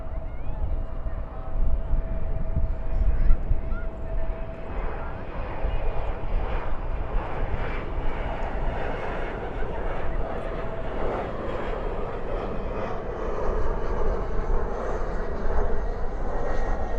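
An Embraer E175 jet's engines roar steadily nearby as it arrives at Dallas/Fort Worth airport at night, a broad rumbling whine that swells slightly as the plane comes in, with a voice talking over it.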